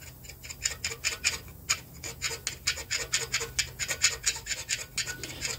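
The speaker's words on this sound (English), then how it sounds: "This is a super scraper, and it makes short work" A super scraper scrapes stuck gaskets off a small-block Chevy engine block in quick, rhythmic rasping strokes, close up and fairly even in pace.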